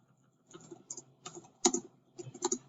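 Quiet, close keystrokes on a computer keyboard come in short irregular bursts as a search is typed, with one sharper key tap near the middle.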